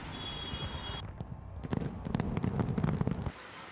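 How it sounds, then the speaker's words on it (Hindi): New Year 2023 fireworks display in New Zealand, a rapid crackling barrage of pops and bangs with dense bursts, heard at a moderate distance over a murmuring crowd. "यहाँ लोगों ने जबरदस्त आतिशबाजी के साथ साल 2023 का स्वागत किया है।"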